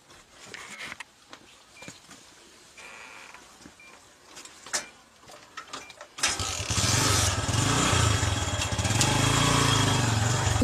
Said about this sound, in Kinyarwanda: Mureke nge no kuyatsa mwumve ni nzima bose.